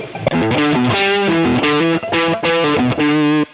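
Electric guitar with neck and bridge pickups split, Perf De Castro signature wiring harness, strumming a rhythmic chord pattern, bright and slightly crunchy, with short choppy gaps between the strums.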